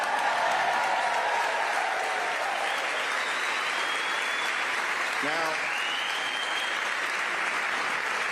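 Applause from a Democratic political audience, a broad steady wash of clapping heard at a moderate distance, with a speaker's voice cutting in briefly at the end.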